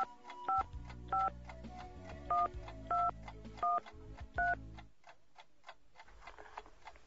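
A telephone number is dialed as six crisp keypad tones in a quick, even sequence, followed by faint clicks and quiet line noise.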